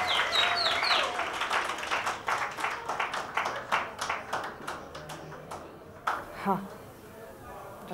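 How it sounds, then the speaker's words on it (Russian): Scattered audience clapping at a small jazz club concert in Kiev as a singer is welcomed to the stage, sharp individual claps over murmuring, fading to a few stray claps, then a voice speaks. "Аплодисменты, пожалуйста."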